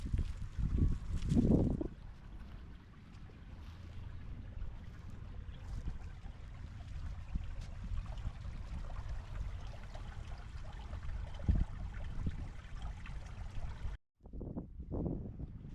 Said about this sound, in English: This little creek is really full right now